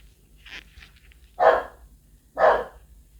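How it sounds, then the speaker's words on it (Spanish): Two loud, close dog barks about a second apart, preceded by a faint yip, with no talking. "Ay, mi guardiana está ladrando."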